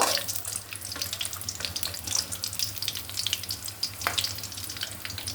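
Spices for a beef curry frying in a pan with onions, a steady close hiss and crackle that runs throughout, with faint clinks and some water-like splashing mixed in.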